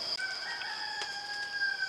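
A rooster crows in one long, sustained call, clear and fairly close, with no other voices around.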